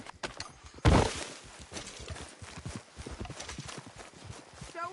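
Horse hooves clip-clop at a walking pace in Red Dead Redemption 2, steady and close, with a loud thud near the start and busy game ambience around them.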